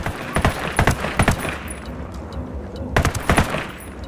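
Gunfire in Ghost Recon Wildlands at a cartel gold mine, sharp bursts of automatic fire in two clusters, close and loud over a steady ambient background.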